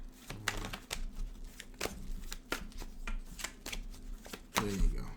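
Tarot cards being shuffled by hand, a series of crisp riffling snaps and soft slaps in quick irregular bursts, close up, with a faint voice briefly in the background.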